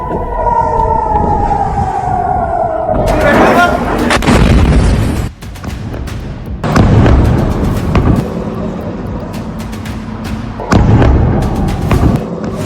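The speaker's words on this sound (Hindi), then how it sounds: "न्यूज़ 18 इंडिया के कैमरे में कैद ईरानी मिसाइलों की ये वीडियो देखिए।" Iranian missile strikes hit Tel Aviv: a falling siren wail gives way to loud, repeated explosive blasts and rumbling bursts separated by short lulls.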